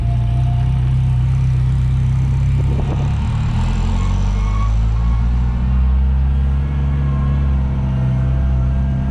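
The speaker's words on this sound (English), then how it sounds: "You get to hear the car, see it drive in action." A 1986 Ferrari Mondial 3.2 Coupe driving in first gear, a loud, close, steady engine drone with a slight rise in revs partway through and no talking.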